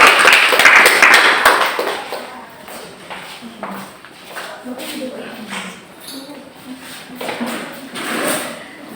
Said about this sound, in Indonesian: Kasih aplaus dulu sekali lagi.